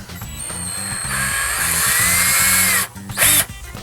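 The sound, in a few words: power drill drilling holes with 5/32 bit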